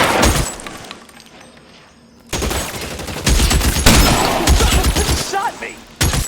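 Gunfire in the crime game L.A. Noire comes in loud, dense volleys of shots mixed with breaking and shattering glass, with a quieter lull in between and a voice shouting over parts of it.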